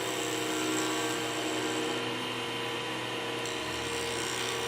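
A cholla and resin pen blank spins on a lathe at 3,900 RPM, producing a steady high whine and rushing cutting noise, continuous and close, with no voices.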